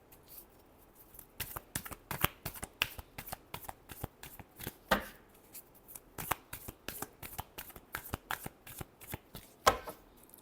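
Tarot cards shuffled by hand during a fortune reading, a long run of crisp riffling bursts and soft taps in an uneven rhythm, close and quiet with no talk.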